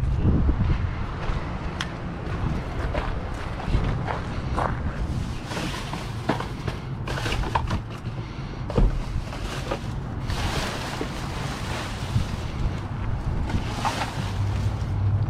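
Wind blowing hard outdoors on Christmas Day, a continuous rushing roar buffeting the microphone with gusty bursts and rustling debris, no voices.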